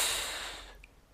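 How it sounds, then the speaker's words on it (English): Breath is drawn through a POWERbreathe inspiratory trainer, a loud airy rushing that fades out over about a second, followed by quiet. "You will be able to hear the air entering and leaving your POWERbreathe."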